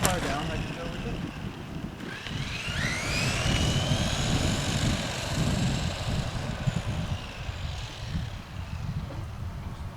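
A Simrex CR-08 RC buggy driving down a street, a whining high-pitched electric motor that rises and falls in pitch as it speeds away, over rough wheel rumble and outdoor noise.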